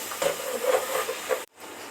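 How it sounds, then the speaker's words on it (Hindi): Whole dried chillies sizzle and hiss steadily in hot oil in a pan, a close, continuous frying crackle that cuts off abruptly near the end before resuming faintly. "8-10 साबुत मिर्चें डाल दी। 3 मिनट में इसको फ्राई करूंगी,"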